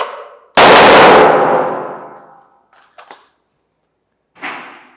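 Pistol drawn and fired at steel targets on a practice range: one loud, sharp report ringing into a long metallic clang that slowly decays, followed by small clicks and a later fainter hit.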